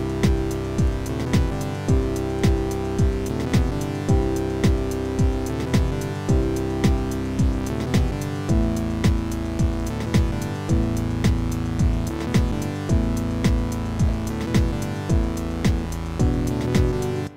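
MIDI music track playing back in Studio One, still rigid and not yet humanized, with a steady repeating beat and layered synth and drum parts running loud and continuous throughout.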